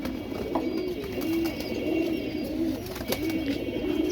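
Several pigeons coo steadily in a loft or cage area holding around fifty birds, their low, rolling calls repeating close by over a faint background hum.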